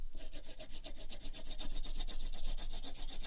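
Colour is rubbed back and forth across paper for background shading in a steady, even scratching rhythm, close and fairly faint, with no talk over it.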